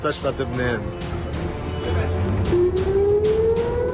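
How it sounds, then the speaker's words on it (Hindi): Air raid sirens in an Israeli city during the Israel-Hezbollah war, a wail starting to rise midway under a busy mix of voices and noise, climbing steadily in pitch. "इजराइल के शहरों में युद्ध के सायरन सुनाई दे रहे हैं"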